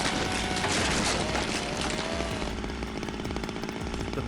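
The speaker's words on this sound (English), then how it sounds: "We saw Akane wielding a chainsaw though." Chainsaw in the video game Zero Time Dilemma, a loud buzzing engine whine with rising revving, steady and close, then a harsher rattling grind in the second half.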